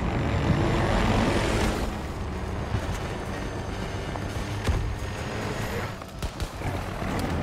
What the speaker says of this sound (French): J'ai entendu, entendu les bruits d'un hélico très proche